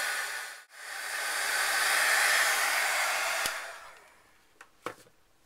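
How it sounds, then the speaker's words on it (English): A handheld heat tool blows a steady, loud hissing roar as it melts embossing powder on a handmade card, then cuts off, leaving a few faint clicks and handling knocks. "Now I'm going to use my heat tool to set the embossing powder."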